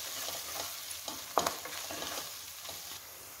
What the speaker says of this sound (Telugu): అల్లం వెల్లుల్లి పేస్ట్, వీటన్నిటిని మళ్ళీ ఒకసారి మంచిగా మిక్స్ చేసుకోవాలి.